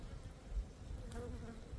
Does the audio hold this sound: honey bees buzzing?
yes